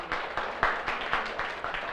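A business-presentation audience breaks into a brief round of applause, a few sharp, rhythmic bursts of clapping close by, with no talk over them.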